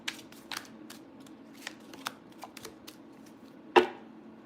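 Tarot cards from a deck are shuffled and drawn at close range, giving a string of quick papery flicks and riffles with a sharper slap near the end, quiet and without talk.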